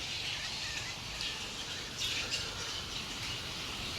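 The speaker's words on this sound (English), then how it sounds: "So anyone who loves birds, this is a good, great sight. All type of birds." Birds call and squawk across a city park garden with camellias, a steady outdoor chorus of chirps sitting under broad background hiss, fairly distant and continuous.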